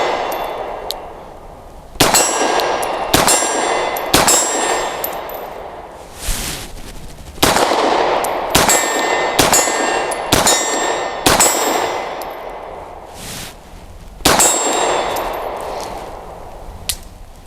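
Wilson Combat SFT9 pistol firing Freedom Munitions 115 grain rounds at a steel torso target, with about a dozen sharp, loud shots in irregular bursts, each followed by a bright metallic ring from the struck steel.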